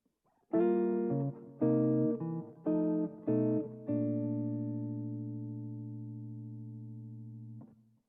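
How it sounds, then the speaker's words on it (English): An electric guitar strums a short run of jazz chord changes, several quick staccato stabs followed by one chord left ringing and slowly fading. "here's how the changes sound on the guitar"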